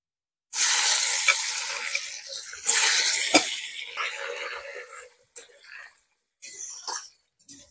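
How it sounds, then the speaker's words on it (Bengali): Garlic frying in hot oil with dried red chilies for a sour greens pickle, giving loud bursts of sizzle and hiss that flare, fade, then return in short separate spurts. "রসুনটা দেওয়ার পরে রসুনটা আমি হালকা করে লাল লাল করে ভেজে নিয়েছি।"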